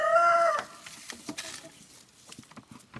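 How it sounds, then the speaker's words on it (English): A chicken gives a short, clear call near the start, followed by quieter pecking, rustling, and soft scratching inside a deep-litter coop. "Right, you got a chicken in here."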